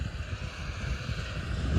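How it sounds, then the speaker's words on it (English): A farm tractor runs close by while working a field with a power harrow, giving a steady, near, low engine rumble with faint pulsing and some wind buffeting the microphone. "I'm currently recording this right next to the tractor, so I should be able to give you some tractor noises"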